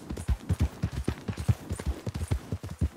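Horse hooves clip-clopping at a steady trot in Red Dead Redemption 2, crisp rhythmic hoofbeats close by with no talk.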